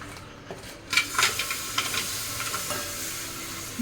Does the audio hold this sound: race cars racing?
no